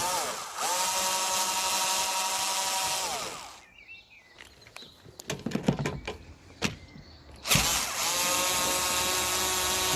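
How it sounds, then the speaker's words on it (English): A power tool unscrews Torx screws on a 2015 X290 Fiat Ducato, whirring loudly in a steady run, dropping out for a stretch of clicks and knocks, then whirring again. "Just undoing the torque screws now."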